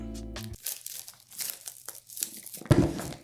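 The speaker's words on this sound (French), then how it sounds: "Bon allez, on va les déballer, on enlève le plastique." Plastic wrap is peeled and torn off an AirPods box, giving close, irregular crinkling and tearing bursts with short pauses and a louder rustle near the end.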